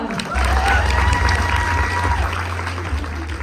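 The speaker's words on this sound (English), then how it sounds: "let's give a round of applause and welcome Perla Montemayor" A studio audience applauds to welcome interview guest Perla Montemayor, loud dense clapping mixed with crowd noise and some cheering over a low rumble, sustained throughout.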